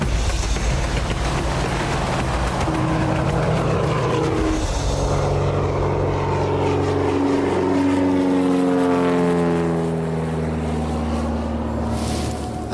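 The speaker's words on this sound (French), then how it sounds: "On est à bord de l'avion et on décolle." A propeller airplane takes off, its engine droning loud and steady before the tone climbs into a rising, sweeping whine as the aircraft accelerates.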